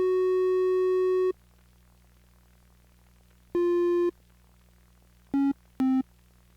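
Korg Electribe EMX-1 synth preset from 2003 playing sustained pure tones with rich harmonics: one long note, a second held note after a pause, then two short lower blips near the end, clean with no talking.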